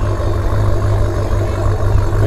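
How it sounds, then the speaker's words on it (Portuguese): Close and loud, the engine of a Chevrolet Camaro at a drift event holds a deep, throbbing idle-like rumble with no talk over it. "O ronco do Camaro é maravilhoso"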